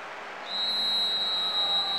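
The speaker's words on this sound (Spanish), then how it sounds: "Suena el silbato." A sustained, high-pitched referee whistle in a football video game (PES 6) starts abruptly about halfway through and holds steadily to the end over a soft crowd-like background.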